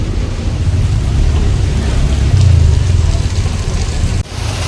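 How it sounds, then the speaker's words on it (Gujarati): Heavy rain pours in a loud, steady wash with a low rumble underneath, continuous and close, with a brief dip near the end. "જોઈ લો સારો વરસાદ"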